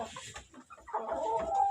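Kuchinsky chickens clucking inside a henhouse, a string of short, close clucks and murmurs that build into louder, steadier calls toward the end.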